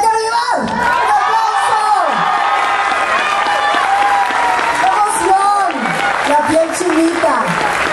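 Audience on their feet applauding and cheering for Edgar Vivar at an event in Puebla, 2018: loud, sustained clapping mixed with whoops and shouts, while an announcer's amplified voice rises and falls over the crowd.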